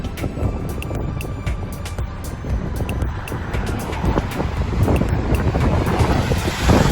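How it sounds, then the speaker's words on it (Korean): Rough, angry sea pounds the Jeju coast on a cold, snowy day. Waves roar and crash continuously under strong gusting wind that buffets the microphone, with no talk. "오늘은 성난 제주의 바다입니다."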